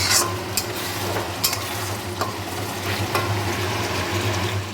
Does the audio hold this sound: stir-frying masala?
yes